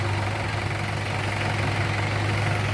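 A JCB digger and a tractor idle while loading soil near a house, giving a steady, low rumbling hum that runs without a break and stays fairly close.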